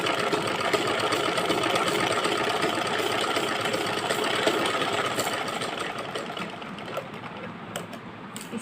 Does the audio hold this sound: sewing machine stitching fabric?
yes